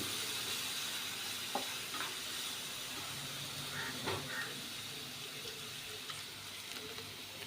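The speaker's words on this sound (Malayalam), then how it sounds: "ഞാനൊരു നാല് ടേബിൾ ടേബിൾ സ്പൂൺ വിനാഗിരിയാണ് ഇപ്പോൾ ചേർക്കുന്നത്" Vinegar goes into a pan of sizzling garlic pickle, and a continuous hissing sizzle fills the clip with a few soft stirring taps and scrapes on top. No one speaks.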